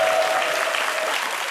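Audience applause on a French midday television show, a dense, steady patter of many hands clapping at an even level, continuous and without voices on top.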